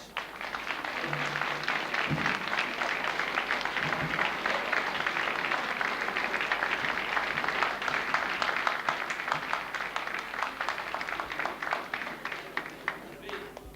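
An audience at a 1983 carnival sitting evening gives dense, sustained applause, steady for several seconds, with faint voices underneath.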